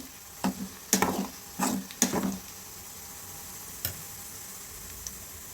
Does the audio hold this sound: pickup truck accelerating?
no